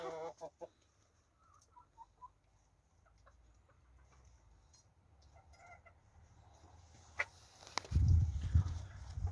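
Scattered soft clucks and short calls from a few hens, including Brahma chickens, faint at first, then a louder burst of flapping or scuffling near the end.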